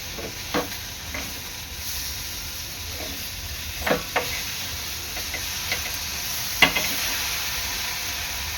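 Crab (chimbori) frying in a pan, a steady close sizzle with occasional stirring clinks and scrapes scattered over several seconds, with no voices.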